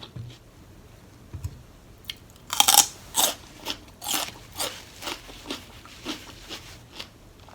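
Fresh celery stalks are crunched and chewed near the mouth. Loud crisp bites come first, then a steady run of about a dozen rhythmic chewing crunches that slowly fade.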